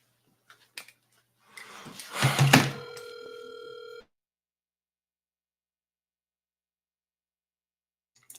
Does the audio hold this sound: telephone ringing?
yes